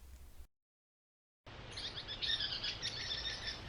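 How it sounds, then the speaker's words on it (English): After a brief silence, morning birds chirp and trill in a lively outdoor chorus at a campsite along Nebraska's Cowboy Trail, fairly soft and continuous. "I don't know if you can hear those birds. That's our alarm clock this morning."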